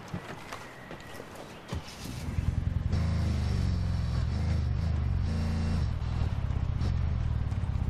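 A car in the tactical shooter Ghost Recon Breakpoint starting off and driving, a low steady engine drone rising in after a few clattering footstep-like sounds, loud and close, with no talking.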